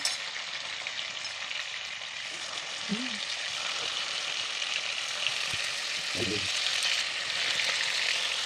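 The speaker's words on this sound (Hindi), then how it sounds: "मेरे भाई ने ये चिकन कर लिया है फ्राई" Chicken for butter chicken frying in a pan in a home kitchen: a steady, fairly close sizzle with small crackles, broken by a couple of brief, faint vocal sounds.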